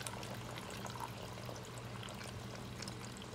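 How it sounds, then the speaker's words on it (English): Water poured into a pan of curried goat before it goes into a 400-degree oven, a steady soft trickle and splash running the whole time at low level, with a faint background hum and no talking. "I'm gonna add the water to the side."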